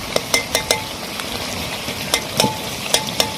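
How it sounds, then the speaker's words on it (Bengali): Dhaba-style kadai chicken being stirred with a spatula: steady sizzling frying under irregular metallic scrapes and clinks of the spatula against the kadai, close and clear, with no talking. "এরকম করে খোলাটা এরকম তারা করে আস্তে আস্তে এগুলোকে ঘেটে নিতে হবে"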